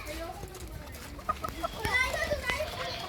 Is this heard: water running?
no